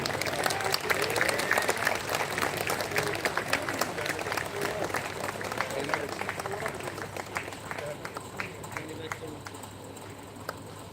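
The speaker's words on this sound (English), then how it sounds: "Please give a big round of applause to him." An audience at a C-DAC Mumbai convocation ceremony applauds, with dense, sustained clapping that gradually thins out into scattered claps toward the end.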